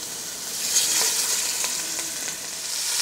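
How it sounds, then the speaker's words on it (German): Meat sears in hot oil inside a cast-iron Dutch oven, giving a loud, even hiss that holds steady for the whole few seconds, with faint crackles popping through it. "Und wenn das Öl dann heiß ist, nehmen wir das Fleisch und braten das erstmal von beiden Seiten an."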